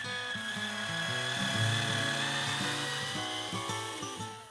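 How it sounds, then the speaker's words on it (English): A power drill whines steadily at close range, its pitch wavering slightly as the bit cuts a clearance hole into aluminum, then easing off at the end. "First, I drill a clearance hole large enough to accommodate the screw shaft."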